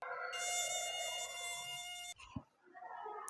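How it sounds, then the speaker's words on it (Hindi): A mosquito's high, thin whine hums steadily and close for about two seconds, then cuts off into quieter background noise with a brief thump. "एक मच्छर आदमी को डेंगू या फिर चिकनगुनिया भी कर सकता है"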